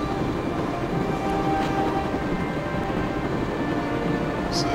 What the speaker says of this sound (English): This is a sizable train.